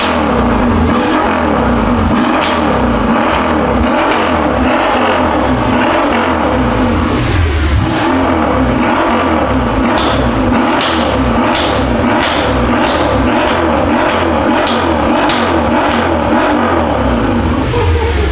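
Mercedes S63 with a newly installed loud exhaust revving hard, a loud aggressive engine roar that rises and falls in repeated bursts with crackles between throttle blips, continuous from start to finish.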